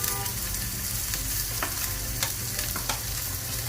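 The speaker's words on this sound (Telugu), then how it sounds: "కొంచెం వేగనివ్వాలి." Onions and green chillies with cumin and mustard seeds frying in hot oil, a steady close sizzle with a few sharp scraping stirs of a spatula against the pan.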